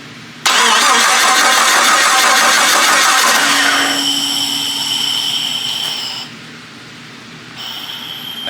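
A rebuilt engine assembled from a bare block on the cheapest parts cranks and bursts to life, running loud and close with a rough, busy roar and a high whine, then settles to a quieter, steady idle near the end.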